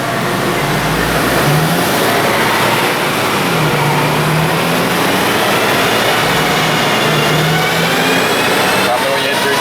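A Volkswagen Mk6 GTI with a Stage 2 tune runs in 3rd gear on a dyno, giving a steady loud engine roar with a slowly rising tone and a dense whooshing hum throughout.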